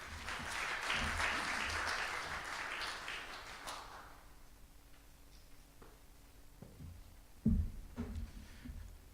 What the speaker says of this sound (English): Another big round of applause to Dr. Sabala.